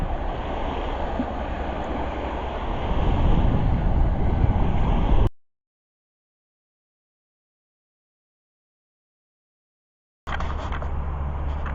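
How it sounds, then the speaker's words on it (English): Waves rolling onto a lake shore at Lake Tawakoni State Park, a steady rushing wash buffeted by wind noise, which cuts out to silence midway and then resumes. "because of the waves coming in, stirring up all the water, making it kind of muddy"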